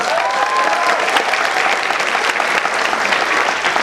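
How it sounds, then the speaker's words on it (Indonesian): Dense, steady applause from a large audience at a 2012 Jakarta gubernatorial debate on health programs, honoring attending participants; loud and sustained throughout, with no break. "kita berikan tepuk tangan"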